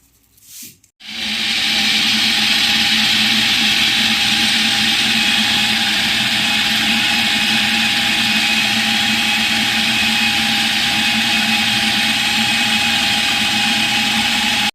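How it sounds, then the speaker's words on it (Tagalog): An electric kitchen blender whirring a chicken mixture with butter for kufftha, kicking on after a brief quiet moment and then running loud and steady with a constant motor whine and hiss until the end. "Blend natin siya ulit"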